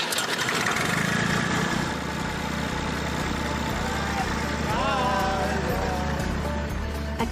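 Classic tractor engine, an unrestored-style vintage machine, runs at a steady low idle with a continuous rumbling throb throughout, loud and close, with some faint background voices and tonal whines mixed in.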